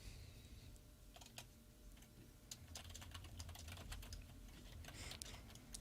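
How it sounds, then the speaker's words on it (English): Computer keyboard typing runs steadily in the background, a quick, uneven patter of soft key clicks over a constant low hum of room noise, with no voices. "I like the typing we can hear in the background."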